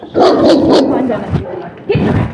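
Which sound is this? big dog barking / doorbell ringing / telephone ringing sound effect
big dog barking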